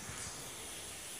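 Jowar bhakri flatbread laid on a hot griddle gives a steady, close hiss of sizzling that holds evenly through the short moment, with no talking.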